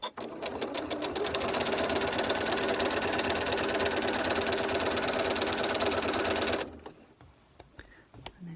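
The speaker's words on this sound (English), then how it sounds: "you're wanting to sew right down the middle of here, and it's going to encase your pennant and your bias binding." A sewing machine stitches bias binding onto Halloween bunting in one steady, close, rapid run lasting several seconds, then stops, leaving quiet room sound.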